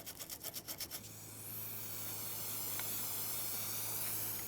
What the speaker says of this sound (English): using some spray solvent, got rid of a lot of the sanding debris inside there